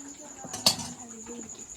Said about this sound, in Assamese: হ'ব কুকাৰৰ ঢাকনিটো মাৰি দে।